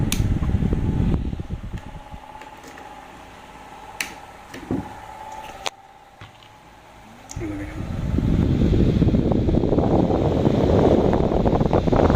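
Small fan running off a power bank, a steady whirring hum close to the microphone with an airy rush that swells louder near the end, with bumps and handling sounds in between.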